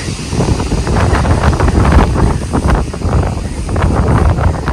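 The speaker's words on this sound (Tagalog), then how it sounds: "grabe ang hangin" Strong typhoon wind roars and buffets the microphone continuously, loud gusting rushes with no pause.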